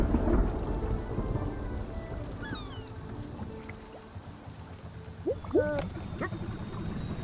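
Rain falls steadily with low rumbles of thunder in Spiritfarer, a continuous dense wash with a few brief sharp chirps near the end.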